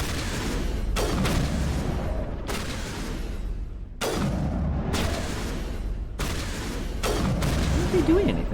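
Pistol gunfire in Mass Effect 1 rings out as sharp, loud shots in irregular bursts, spaced a second or so apart, over a continuous rumble of game background noise.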